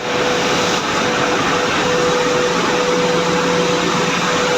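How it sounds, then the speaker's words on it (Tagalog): Steady loud roar of a gas-heated industrial dryer baking freshly pressed tiles in a tile factory, a constant broadband hum with a faint tonal whine and no talking. "Mainit po ito, mainit ang temperatura dito sa may dryer na ito dahil may supply po itong gas."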